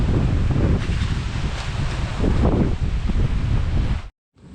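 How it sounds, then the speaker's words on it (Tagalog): Strong wind at a sweet potato field roars and buffets the microphone continuously, a dense rushing noise that cuts off abruptly near the end. "Grabe lakas ang hangin."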